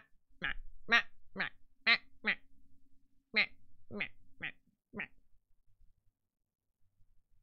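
A person imitates a duck with a string of about nine nasal vocal quacks, one after another at a steady rhythm, loud and close, then silence.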